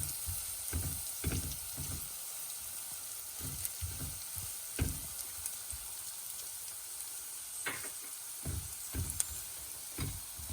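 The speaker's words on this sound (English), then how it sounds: "And just saute it for a bit." Fenugreek seeds sauté in a pan, giving a soft, continuous crackling sizzle with scattered pops and light stirring taps, fairly quiet throughout.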